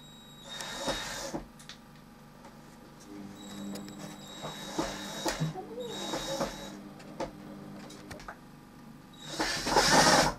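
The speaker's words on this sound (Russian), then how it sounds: "Закручиваю вторую стенку." Screws being driven into the wall of a wooden bird feeder during assembly, several loud bursts of a whirring screwdriver separated by pauses, with handling clatter in between.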